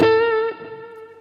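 An electric guitar through an OKKO overdrive pedal with the gain raised, giving a warm Dumble-style tone, rings out one overdriven note that starts strong and then sustains and fades.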